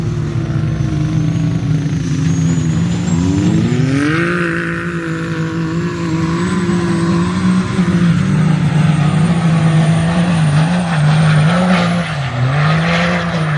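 A two-wheel-drive truck on Transforce HT tires spinning hard in sand, its engine roaring loud and steady with rising and falling revs throughout, close by.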